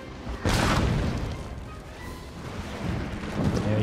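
Cannon artillery booms in the battle game Napoleon: Total War, a sharp loud blast followed by rolling rumble and distant battlefield noise, with further dull thuds later.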